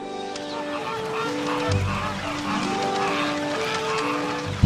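Migratory geese honk in a wetland, with several loud, close calls overlapping above a steady background hum, and a sharper thump at the very end.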